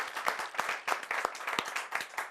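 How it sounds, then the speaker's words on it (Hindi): Clapping from a television show audience during a Holi segment, a sparse, fairly quiet run of distinct hand claps in a loose irregular rhythm, suggesting a small group rather than a large crowd. "तो एक बार इस होली के लिए हम जोरदार तालियां बजाएं।"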